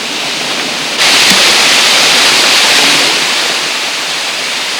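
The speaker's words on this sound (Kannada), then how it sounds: "ಶಿವನ ಜಟಾಜೂಟದಿಂದ ಇಳಿಯುವ ಗಂಗೆಯಂತಿರುವ ಜಲಪಾತವನ್ನು ಕಂಡಾಗ" Steady, dense rush of falling water at Devaragundi falls in Dakshina Kannada, a broad continuous roar that swells louder midway and holds, with no voices.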